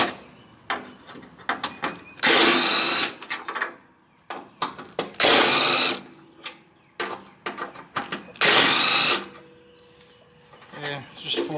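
A power driver backs Torx T30 screws out of the cargo mount on a John Deere LA105 lawn mower, three loud sustained whirring bursts separated by clicks, knocks and handling noises.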